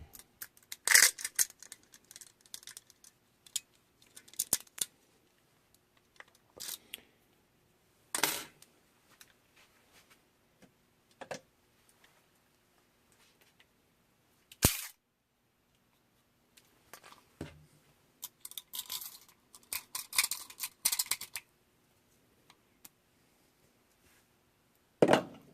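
Airsoft rifle gearbox from an APS UAR being opened to replace its spring, giving sparse sharp plastic and metal clicks and snaps at irregular intervals, close and fairly quiet with long silent gaps.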